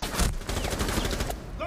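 Rapid gunfire in Rainbow Six Siege, a dense burst of automatic shots lasting over a second, loud and close, then cutting off briefly before a little more noise.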